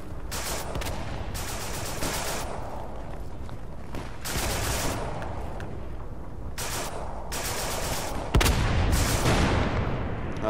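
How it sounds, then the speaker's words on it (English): Dense battlefield gunfire and artillery from the World War II shooter Day of Infamy, set in the Battle of the Bulge: continuous rattling bursts and rolling booms, loud throughout, with a heavy blast near the end. "These explosions look nice."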